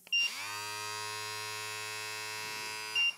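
A Brio Beardscape V2 beard trimmer runs at 7,000 RPM, giving a steady, close electric hum with a bright harmonic buzz for about three seconds, starting and stopping with a brief click.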